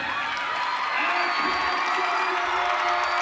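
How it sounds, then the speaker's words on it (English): Arena crowd at a Missouri gymnastics meet cheering and whooping loudly after a routine, a dense, sustained roar with high shouts throughout. "The crowd just erupted for that routine."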